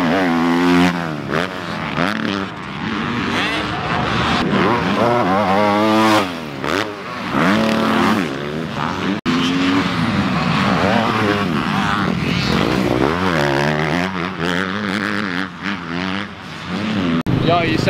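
Pit bikes at the KROC17 pit bike race, loud buzzing engines rising and falling in pitch as riders rev and pass close by one after another, with voices talking over the noise.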